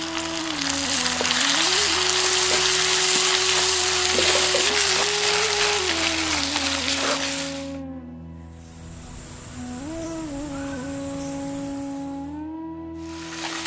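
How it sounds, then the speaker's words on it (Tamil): Chopped tomatoes sautéing with onion and ginger-garlic paste in a pan for a spicy kadai chicken fry, giving a loud steady sizzle and hiss that dips briefly and then continues more quietly. "அடுத்து நறுக்கி வச்சிருந்த 200 கிராம் தக்காளியும் சேர்த்து நல்லா வதக்க ஆரம்பிச்சிருவோம்."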